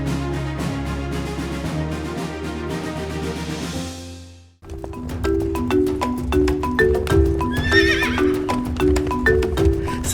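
Horses on Sumba, eastern Indonesia, neigh and whinny repeatedly with loud, close calls, while hooves clip-clop in a steady rhythm beneath them; a short dip to near silence falls midway before the horse sounds resume.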